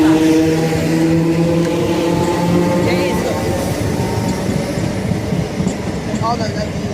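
A Thameslink Class 319 electric train pulls out of Bromley South station, a steady rumble of wheels and motors with a few tonal whines rising over the platform noise, voices chatting nearby.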